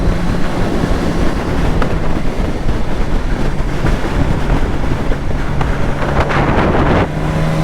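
Steady wind gusts buffet the microphone in a continuous loud rush on a moving 2023 Suzuki GSX-S1000 motorcycle, with gusts swelling and fading under a faint engine drone.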